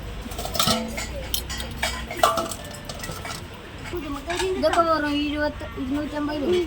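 Steel vessels and utensils at a busy market stall clink and clatter in quick, bright metallic knocks, close by, while voices talk over the handling.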